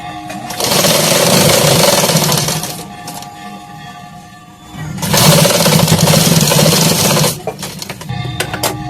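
A sewing machine stitching a katori blouse along a marked line runs in two loud, sustained whirring bursts, each lasting a couple of seconds, with a brief quieter pause and handling clicks between them.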